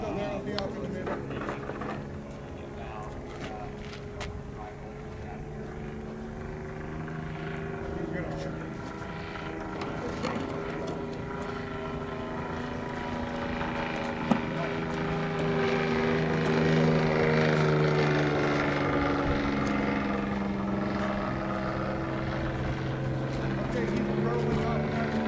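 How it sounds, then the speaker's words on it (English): An RC tow plane's engine drones steadily as it circles during an aerotow of a large glider, a sustained wavering hum that swells slightly midway, with voices talking over it. "The tow plane is circling."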